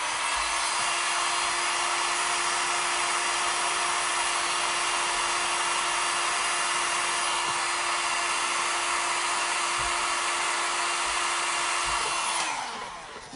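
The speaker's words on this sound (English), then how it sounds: "I'm going to blow dry the lashes." A hair dryer blowing on false eyelashes makes a steady, loud, close whoosh with a constant motor whine, running without a break for about twelve seconds before it is switched off and spins down, with no voices.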